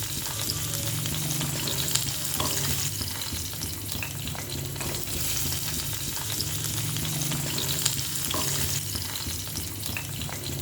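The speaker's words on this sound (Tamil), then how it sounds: "நல்லா ஃபுல்லாக ஃப்ரை பண்ணிக்கலாம்." Tomatoes and garlic fry in a pan for a country chicken sambar, making a loud, steady, close sizzle with occasional stirring scrapes and no talk.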